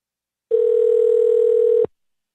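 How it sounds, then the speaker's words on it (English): A steady telephone dial tone hums for just over a second after a phone line drops out, loud and alone, then cuts off abruptly. "You had forewarned me your phone might drop out, and it did."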